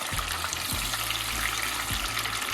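Fish fries in hot oil for crispy fish and chips, a steady dense sizzle and crackle running throughout at moderate level, with no voices.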